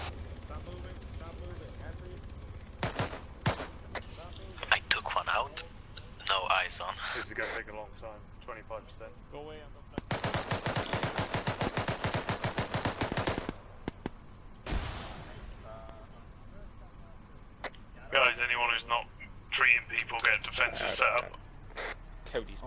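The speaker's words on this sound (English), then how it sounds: "Tim, there's shots fired." Gunfire in the Arma 3 military shooter, with bursts of rapid automatic shots and scattered single cracks coming in rattling volleys, mixed with players talking over radio-style voice chat.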